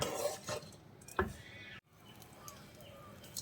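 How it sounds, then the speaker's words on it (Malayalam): A spoon stirs basmati rice with a lemon rice spice mix in a pan over a flame, giving soft scrapes and a few sharp metallic knocks against the pan, close and fairly quiet. "അപ്പം നമ്മൾ ഈ അരി നന്നായിട്ട് നമ്മുടെ ബാസ്മതി റൈസും ഈ കൂട്ടുമൊക്കെ ആയിട്ട് നന്നായിട്ടൊന്ന് മിക്സ് ചെയ്തെടുക്കാം"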